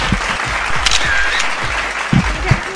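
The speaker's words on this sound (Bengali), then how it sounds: "হাততালি হোক" A crowd at a Puja quiz prize-giving breaks into dense, continuous clapping for the whole stretch, loud and close, with a few louder hand claps near the end.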